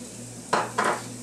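Garlic and paprika hit a hot pan with two short bursts of sizzling and stirring, close and fairly loud, with no talk.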